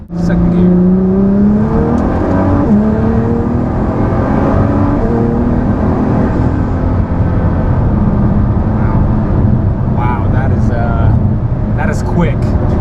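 A 1,000 hp Nissan GT-R accelerating hard in second gear, a loud close engine roar with rising whine and turbo whoosh throughout, heard from inside the car.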